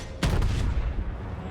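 Battleship main guns firing in World of Warships, a heavy booming salvo that hits suddenly and rolls into a long low rumble, loud and distant-sounding, with no talking.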